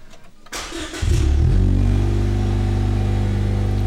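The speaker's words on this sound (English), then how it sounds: "here's a cold start from inside the car" Cold start of a car fitted with a new exhaust, heard from inside the cabin: a quiet moment, then the starter cranks and the engine catches with a loud rev flare before settling into a deep, steady, rumbling idle.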